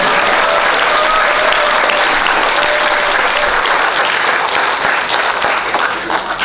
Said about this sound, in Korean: 박수 주셔야 됩니다.